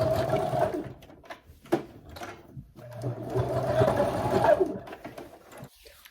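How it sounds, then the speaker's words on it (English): A sewing machine restitches seams on altered jeans, running in close bursts with a steady mechanical hum and rapid needle clatter, pausing briefly between runs, alone without talk. "So I'm just going to go back in and sew those again."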